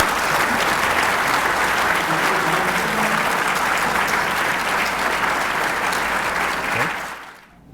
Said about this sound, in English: Let's give all of these remarkable individuals an applause again.